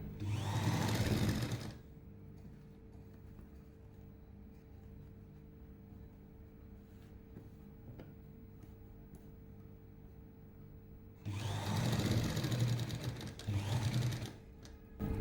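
Sewing machine stitching a thin seam on a chudidar neck backed with canvas, two loud close bursts of running stitches separated by a long quiet pause with faint handling sounds.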